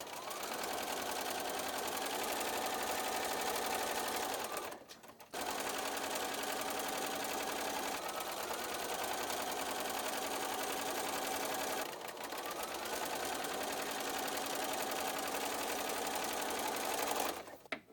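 Sewing machine stitching quilt block seams of quarter-square triangles, a steady close rapid whir running in three long continuous stretches separated by brief pauses.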